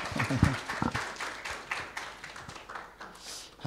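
A church congregation applauds in scattered, uneven claps after members are thanked during a Sunday service, the clapping fairly close and moderately loud, thinning out toward the end.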